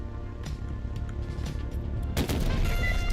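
Missiles firing in a PS5 shooter game: a rapid burst of explosive booms and rattling shots gives way to a heavier roaring barrage near the end, loud and close, with no talking.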